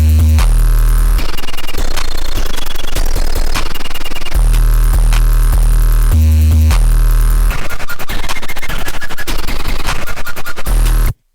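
Programmed drum beat made in FL Studio, with booming bass hits and busy hi-hats and snares all playing together, dense and loud throughout with no voices.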